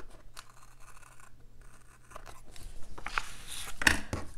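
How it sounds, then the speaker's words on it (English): Scissors snipping through Happy Planner paper at a desk, a few soft crisp cuts and rustles building near the end, with one louder snip close by; no talking. "We can cut this here."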